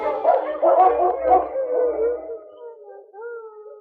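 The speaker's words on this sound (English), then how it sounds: "She released each dog in turn, while King leaped and barked instructions to his mates." Sled dogs in a Yukon radio drama howl and yip together, a close chorus of wavering cries that thins out into a single trailing howl.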